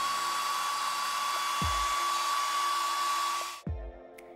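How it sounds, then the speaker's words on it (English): A hair dryer blows with a steady, loud whirring roar that cuts off abruptly near the end, leaving a couple of soft thumps. "Put a hairdryer into the other sleeve."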